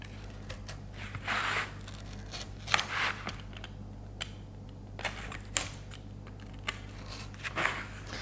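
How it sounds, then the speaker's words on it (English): A Stanley knife saws through thick, multi-layered cardboard in a series of short, crunchy, scraping strokes with brief pauses between them, close and moderately quiet. "I'm going to start off by cutting out the deer's head. So I've got a Stanley knife."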